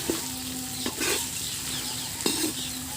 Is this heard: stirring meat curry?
yes